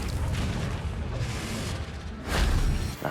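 A Confringo fire spell blasting in Hogwarts Legacy, a continuous loud rumbling roar topped by a sharper explosive burst near the end.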